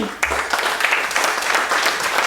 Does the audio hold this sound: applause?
yes